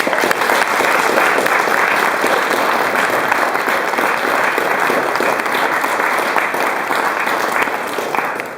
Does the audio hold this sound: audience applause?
yes